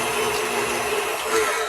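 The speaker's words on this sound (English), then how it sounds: "I'm using the whisk attachment, so we're just going to turn that on and we're going to beat these eggs." A stand mixer with a whisk attachment beats eggs in a studio kitchen, giving a steady, fairly loud whirring motor hum with no talk over it.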